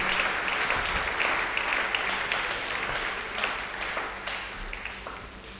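A church congregation claps and cheers for the glory of God during a sermon, sustained applause from a crowd filling the room, steady and fairly full before tapering slightly toward the end.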